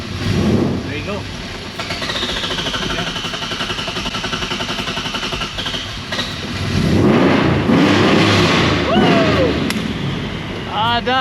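A Nissan VQ35HR engine swapped into an S15 runs at idle just after its first start, a steady mechanical drone throughout with people talking nearby and a louder stretch partway through.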